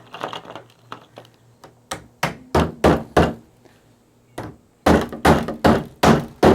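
Sharp hammer taps strike plastic end caps on pool step handrails, a few light ones then bursts of heavy, evenly spaced blows, close and loud with brief pauses between.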